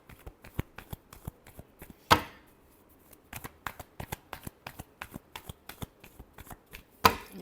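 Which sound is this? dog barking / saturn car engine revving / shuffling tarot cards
shuffling tarot cards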